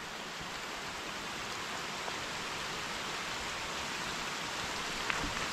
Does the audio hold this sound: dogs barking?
no